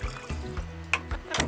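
Water is poured into a cooking pot for jollof with a brief, close splashing trickle and a few soft knocks, over a faint tonal background.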